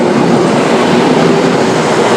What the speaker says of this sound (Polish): O, jedzie pociąg.